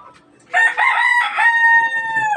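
A rooster, one of a keeper's labuyo-season fowl, crows once in a long loud call with sustained harmonic tones lasting nearly two seconds, close by, after a quiet start.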